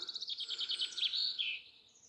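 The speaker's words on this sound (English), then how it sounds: "Nice to listen to the birds sing." Songbirds chirp and sing in a bluebell woodland, a rapid series of bright, high tweets in quick succession, fairly close and clear over a quiet background, fading toward the end.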